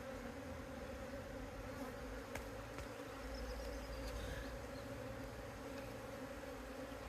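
Honeybees buzzing inside a poly beehive during a spring inspection, a steady low drone with a few louder individual bees passing close, no talking.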